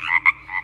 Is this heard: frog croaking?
yes